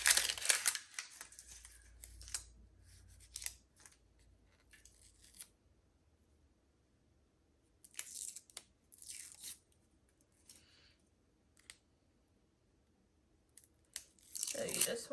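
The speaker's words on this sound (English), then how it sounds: "So you just want to peel off all the different layers of the skin before you chop it." The papery skin of an onion is peeled away by hand in close, dry crackling and tearing bursts, separated by quiet pauses, with a louder crinkling flurry at the start and end.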